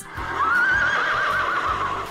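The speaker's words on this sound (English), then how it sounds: "Dan, was that you or the horse" A horse in a Roblox video game lets out one long, loud whinny, wavering and falling in pitch for nearly two seconds, with a soft beat of game music underneath.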